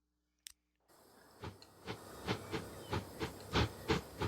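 A Great Northern Railway Stirling single steam locomotive in a Transport Fever 2 simulation, with a steady hiss of steam and rhythmic chuffs or clicks growing louder and more regular after a brief quiet start.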